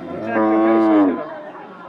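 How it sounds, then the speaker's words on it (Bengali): A crossbred cow at the Shibalaya cattle market in Manikganj gives a single loud, close moo lasting about a second, with faint crowd chatter behind. "ভিউয়ার দেখতেই পাচ্ছেন একটি শঙ্কর জাতের ষাঁড় বাছুর এবং তার সাথে একটি গাভী আছে।"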